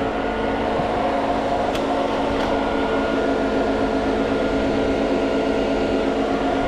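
A recirculating concrete pump runs with a steady, loud mechanical drone and a constant hum, with no breaks and a couple of faint clicks.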